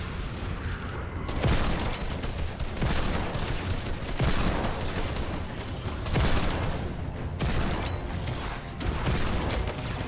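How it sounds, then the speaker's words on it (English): A hand cannon fires on zombies in a video game horde rush mode. Heavy shots come in dense, continuous volleys with booming impacts that stay loud throughout. "I'm gonna destroy these zombies with this hand cannon"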